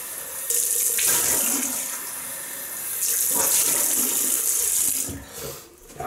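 Tap water runs steadily into a sink while a razor is rinsed under it, a loud close splashing stream that shifts in tone as the blade moves through the flow before easing off at the end.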